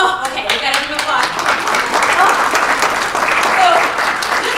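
Audience applause at a talk, a steady wash of many hands clapping for several seconds with voices mixed in underneath.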